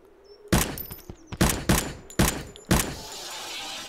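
Gunfire in the indie survival game Zero Sievert: four sharp, loud shots at roughly one-second intervals, each with a short echoing tail, and no speech.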